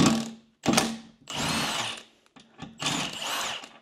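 Power tool with a socket undoing bolts on a Land Rover Defender, buzzing in several close, loud bursts of about a second each with short pauses between.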